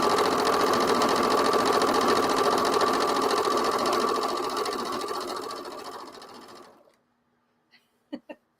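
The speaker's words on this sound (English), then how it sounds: "You just straight sew." A sewing machine runs a long straight stitch in a steady, loud whirring drone. It slows and stops, followed by a few sharp clicks in the quiet.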